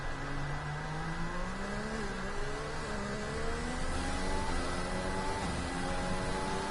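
Racing video game car, a Mercedes coming through the final two corners at Spa and accelerating onto the start-finish straight, its engine note climbing steadily through gears at a constant, fairly loud level with no talk.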